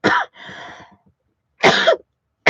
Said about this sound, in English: I know y'all are used to listening to me cough